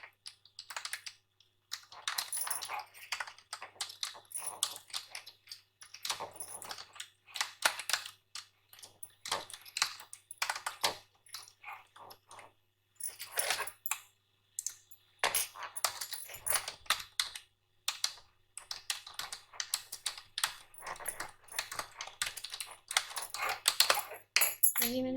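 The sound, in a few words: typing text on a computer keyboard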